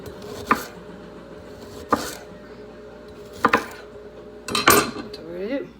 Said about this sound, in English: Then what we're gonna do is cut the ginger up.